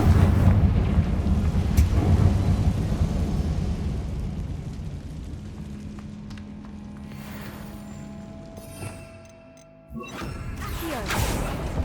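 A Confringo blasting spell explodes in Hogwarts Legacy, a loud booming blast that rumbles and slowly fades, then a quieter impact follows at the end.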